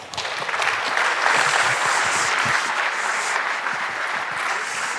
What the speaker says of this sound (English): And a big round of applause for Bill Marzak and John Scott Railton.